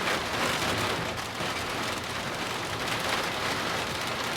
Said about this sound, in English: Force 7 and a hailstorm, lovely.